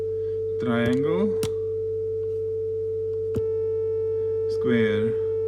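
A square-wave tone from an oscillator on the Erica Synths EDU DIY Labor prototyping synth drones steadily with a buzzier edge, a couple of sharp clicks and short bursts of a man's speech sitting on top.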